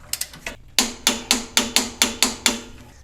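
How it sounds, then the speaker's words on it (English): A 17mm nut is tightened with a torque wrench on a 3rd Gen Toyota 4Runner during a 2-inch lift install, giving a close, loud series of about ten sharp metallic clicks in a steady rhythm, with no talking. "now that the weight of the vehicle is on the springs, we're gonna torque this down to 47 foot-pounds"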